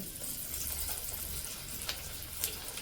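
Jackfruit cutlets slide into well-heated cooking oil and fry with a steady, close, even hiss that holds for the whole stretch, with a couple of faint crackles near the end.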